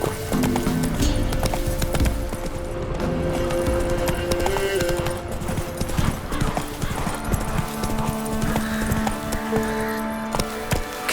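Roach, a horse in The Witcher 3: Wild Hunt, gallops with loud, close, rhythmic hoofbeats and a brief whinny, set against layered game music.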